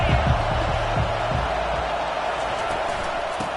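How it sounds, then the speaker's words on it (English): Stadium crowd noise in a college football video game, Tennessee versus Georgia, a dense continuous roar from a large crowd with some low thumps, loud and steady under the surface throughout. "This crowd bringing the energy and noise early."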